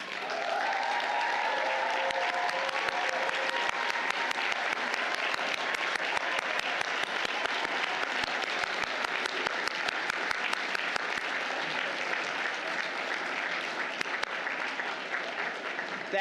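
Graduates at the Georgetown University Law Center Class of 2022 commencement applaud their families: a large hall of sustained, even clapping, with a faint voice briefly audible near the start.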